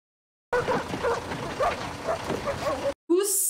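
Dogs bark and yip excitedly in a tense jungle pursuit scene from the 2008 Rambo film, a run of loud close barks with whimpers, briefly cut off before another burst.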